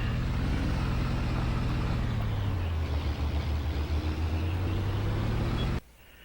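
A skid steer engine in Farming Simulator 25 runs loud and steady at close range with a low droning hum, its pitch dipping slightly midway before the sound cuts off abruptly near the end.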